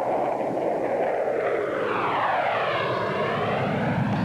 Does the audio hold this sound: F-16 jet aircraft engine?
yes